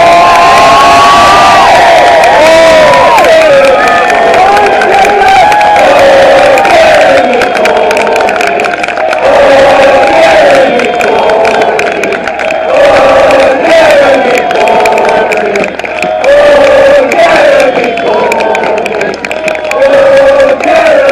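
A large rally crowd in Pendle in December 2019 cheers loudly and continuously for Jeremy Corbyn, with shouts, whoops and scattered clapping that keep swelling for about twenty seconds.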